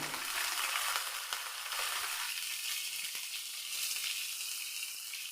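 Ginger and two green chillies hit hot oil in a pan for masala idli, giving a steady, close frying sizzle that continues alone, with occasional stirring clicks.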